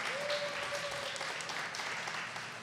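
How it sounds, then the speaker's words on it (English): An audience at a STEM education event applauds staff with a steady wash of clapping. It stays fairly soft and even throughout, fading slightly toward the end. "Give them a round of applause."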